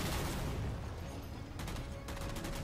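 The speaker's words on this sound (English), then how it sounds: "those AA guns are there like shooting grunts and stuff on the floor" AA guns blasting away in Halo 4, heard as a steady barrage of distant booms with rapid bursts of automatic fire cutting in near the end, kept fairly faint under a busy battlefield din.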